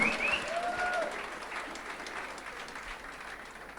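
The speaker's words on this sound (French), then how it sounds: "Denle un aplauso al Señor." Applause from a church conference audience, strongest at the start and then tapering to a lighter, steady patter, with a faint voice briefly over the opening.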